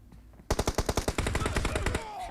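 Automatic gunfire in the mobile game PUBG Mobile, a rapid burst of about fifteen loud, close shots in a fast even rhythm, stopping after a second and a half.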